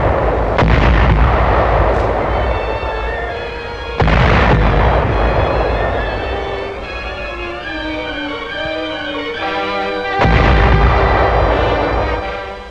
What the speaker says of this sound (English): The maneuvers are covered by the guns of a still powerful navy.